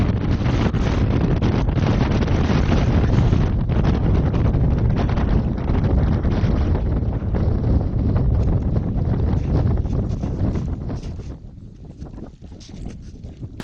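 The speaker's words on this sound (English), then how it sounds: "it was just the wind we were battling against trying to get up the hill" Strong, steady wind roars and buffets the microphone on a snowy hillside, loud and unbroken, easing slightly toward the end.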